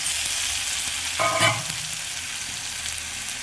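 Curry leaves and dissolved tomato hit hot tempering oil in a rasam pan, giving a sudden loud sizzle that flares briefly and settles into a steady frying hiss.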